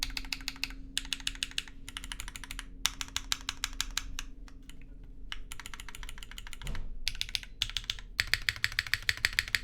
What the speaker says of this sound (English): the spacebar is sounding quite nice